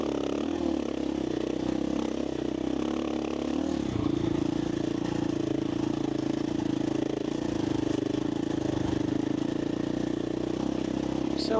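Dirt bike engine droning steadily while being ridden on a desert training ride, loud and close, its pitch shifting slightly as the throttle changes midway.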